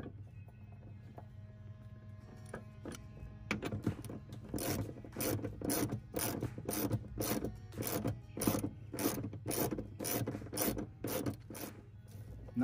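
An 18mm ratchet wrench tightening a bolt on a Jeep gives a rapid run of close, crisp ratcheting clicks in steady bursts, building after a few slower turns, with no talk.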